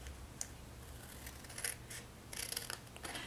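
Quiet snips of scissors cutting through papercraft paper, a handful of light crisp cuts spaced irregularly over a low steady background hum.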